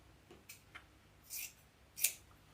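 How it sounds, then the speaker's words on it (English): Sharp scissors snip through stacked felt, cutting out circles along a pencil mark for a rose wreath: a few quiet, separate crisp cuts spaced irregularly in a hushed room. "I'm just cutting around that pencil mark"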